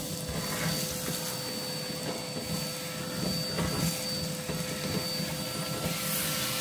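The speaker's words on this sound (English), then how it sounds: "Got a bin bag, so I'll just hoover this bit up." Vacuum cleaner hoovering up ash from a Morso multi-fuel wood burning stove, a constant steady whine and rushing roar, close and even throughout with a fixed motor tone.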